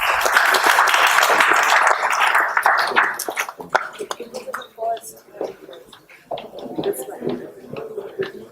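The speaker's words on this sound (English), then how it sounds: "Please, some applause." Audience applause at a stage drama on the life of Lord Buddha, a dense burst of clapping for the first few seconds that thins out into scattered noise and voices.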